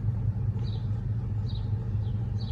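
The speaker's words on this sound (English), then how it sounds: "It's like this old ass car pulling up." An old car pulls up nearby, its low engine rumble steady and continuous throughout with no voices.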